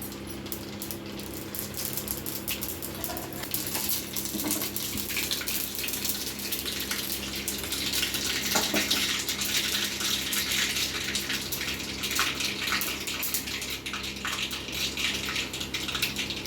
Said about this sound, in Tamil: கொஞ்சம் நல்லெண்ணெய் விட்டுப்போம். கொஞ்சம் எண்ணெய் காயட்டுங்க. எண்ணெய் காஞ்சிச்சுங்க. கடுகு போட்டுடலாம்.